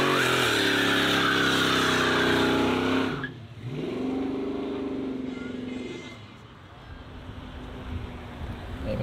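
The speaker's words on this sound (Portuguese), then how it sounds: "Pra mim é a BMW mais bonita já feita, esse M2, velho." A BMW M2 revs hard and pulls away, its loud engine note climbing through the gears before a sharp shift, then fading into the distance with wind noise behind.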